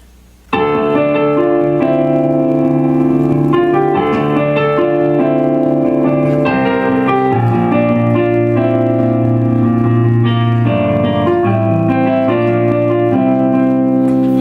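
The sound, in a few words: piano playing part 5 of a song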